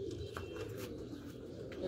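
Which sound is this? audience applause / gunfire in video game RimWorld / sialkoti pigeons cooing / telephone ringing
sialkoti pigeons cooing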